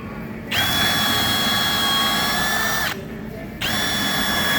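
A Milwaukee M18 Gen3 Fuel cordless hammer drill whines loudly at a steady high pitch, runs for a couple of seconds, stops briefly, then starts again.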